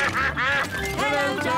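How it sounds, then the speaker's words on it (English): Cartoon ducks on a countryside cycle ride quack loudly and close by, several nasal quacks in quick uneven bursts with no one speaking. "Hello, Ducks."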